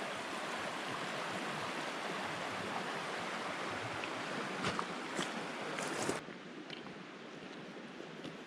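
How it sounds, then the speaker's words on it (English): Pebble Creek in Yellowstone rushes steadily at a backpacking crossing, a broad continuous wash of flowing water heard close, with a few brief splashes or knocks near the end as the roar drops slightly. "We're right here in the middle of the stream now."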